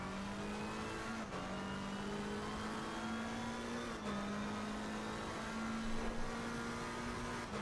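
A McLaren 720S GT3 racing at Zandvoort in the Assetto Corsa racing game gives a steady, loud, high engine drone that climbs in pitch and briefly dips at gear changes, heard alone.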